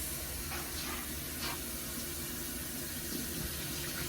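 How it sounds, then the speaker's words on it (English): Liquid poured into a kitchen sink drain beside a garbage disposal gives a steady, soft running hiss with faint splashes throughout, no voices. "and pour down, right down the drain"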